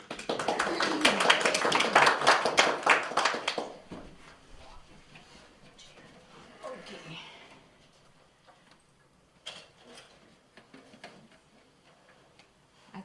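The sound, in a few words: audience applause at service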